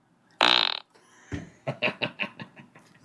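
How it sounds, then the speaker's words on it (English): A phone voice assistant plays a fart sound effect: one long, loud, buzzy blast, then a rapid string of about seven short sputtering pops that trail off, heard alone at close range. "That was a healthy, solid fart."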